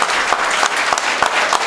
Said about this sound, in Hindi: हमारा सम्मान और जोरदार ताली एक बार इन सभी के लिए